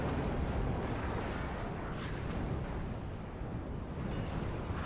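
Artillery and mortar fire in the real-time strategy game WARNO, heard as a dense, continuous rumble of distant booms and blasts blending into a heavy low roar with no clear gaps.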